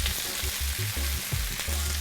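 Escovitch fish vegetables sauté in a hot pan with a steady, close sizzle and frying crackle, broken by soft stirring clanks, with no voices.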